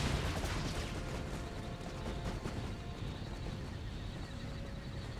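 Troops firing volleys in the Imperial Destroyer strategy game, a dense continuous crackle of musket-style gunfire with rumbling booms, steady and fairly distant throughout.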